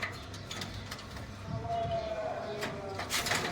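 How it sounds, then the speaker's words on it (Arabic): Tumbler pigeons, a blue male and a pied hen among them, coo softly close by in a loft, the low murmuring mixed with wing rustles and a faint background hum. "حمام تقليب كويس"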